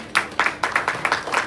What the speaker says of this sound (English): one more time, a round of applause for the MD, Mr. Solomon Theory